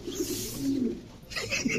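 Pigeons of show breeds such as Lahori and Damascene cooing, a couple of low throaty coos close by, with a little background noise.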